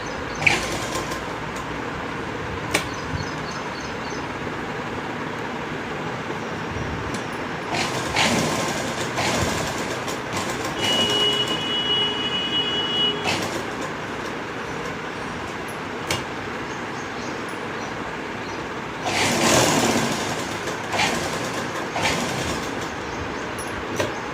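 A sewing machine stitching a boat-neck kurti along buckram, a steady mechanical whirring and clattering that runs throughout, with several louder surges where the machine speeds up, close and moderately loud.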